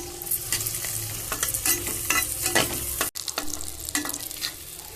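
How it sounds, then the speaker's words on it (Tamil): Grated coconut frying in ghee in a pan while being stirred, a close, steady sizzle broken by repeated scraping strokes of the spoon, with no talking. "நல்லா நெய்யில் வதக்கிக்கணும் சகப்பாக வதக்கிக்கணும்"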